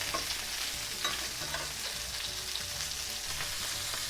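Beef patties for Salisbury steak sizzle steadily in a frying pan just after being flipped, a close, continuous crackling hiss broken by a few faint scrapes.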